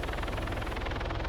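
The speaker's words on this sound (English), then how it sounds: "Is Andre Chato trying to shoot my chopper down?" A helicopter in a video game's Syndikat campaign keeps up a steady, rapid rotor chop with engine whine, loud and continuous, with no voices over it.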